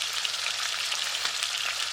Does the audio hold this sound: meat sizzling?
yes